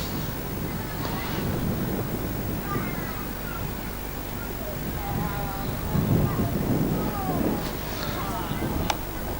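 Strong wind buffets the microphone in gusts near water full of swans and ducks, a continuous rough rumble that swells and eases, with faint bird calls and brief voices in the background.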